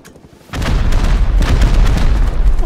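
A loud rocket explosion in the game Rust bursts in after a quiet half-second, followed by a sustained roaring, crackling rumble of fire and debris that stays heavy to the end.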